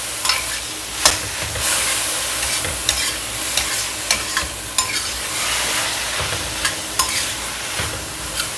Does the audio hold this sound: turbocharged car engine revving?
no